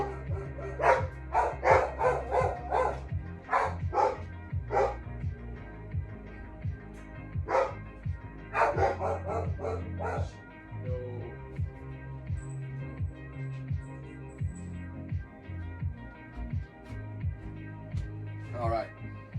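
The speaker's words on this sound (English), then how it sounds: "the dogs will likely bark" Dogs bark in sharp repeated bursts, some yips and whimpers mixed in, fairly close and loud, with a person talking over and between the barks and a quieter gap toward the end.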